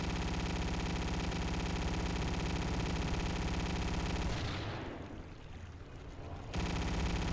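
Shotgun fire in the video game Shrine: a continuous roar of rapid, overlapping blasts, loud and harsh, dropping briefly to a muffled lull before the barrage resumes.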